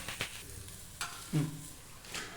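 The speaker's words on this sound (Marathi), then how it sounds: "त्याला आपण नंतर उलट्या करून त्याला दुसऱ्या साईडने पण थोडं भाजून घेऊ" A methi paratha roasts on a tawa with a soft, low sizzle, broken by a few light scrapes and taps of a spatula, close and quiet with no voices.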